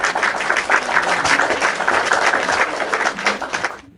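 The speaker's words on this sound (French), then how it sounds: "Très bien, on applaudit" Crowd applause at a gathering in Côte d'Ivoire held to encourage women to vote, a dense, loud, steady clapping that lasts several seconds before cutting off abruptly.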